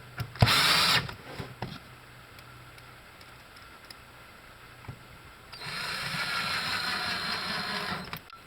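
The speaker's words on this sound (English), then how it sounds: "And I'm going to make it easy and use a drill." Cordless drill driving screws into a Black & Decker battery pack: a short loud whir, a pause with faint clicks, then a longer steady whine running to the end.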